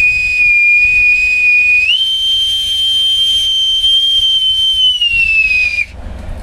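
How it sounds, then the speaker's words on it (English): A bosun's whistle blows one long, loud, piercing note close by. The pitch holds steady, steps up sharply partway through, then slides down before it cuts off. "With my authentic bosun's whistle."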